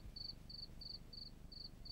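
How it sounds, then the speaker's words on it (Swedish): A lone cricket chirps in a forest beside a high-rise on a warm summer night, giving six short, evenly spaced high trills over a low background hum. "I skogen intill höghuset sjöng en ensam syrsa."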